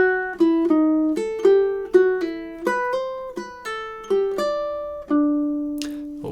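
A solo ukulele picks measures 7 and 8 of the Nutcracker March, a run of crisp plucked notes in a bouncy rhythm that ends on a longer held note. Close and clear with no voices.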